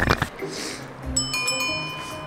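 A small bell rings out clearly, a bright metallic ding with a lingering ringing tail after a brief burst of voices and handling noise at the start.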